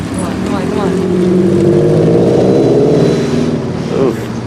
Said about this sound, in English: Got the STi pulling away here.